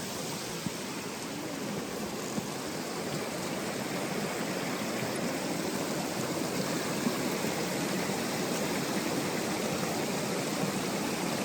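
River water flowing beside a hiking trail, a continuous broad rushing and splashing hiss that stays steady and close throughout, with no voices.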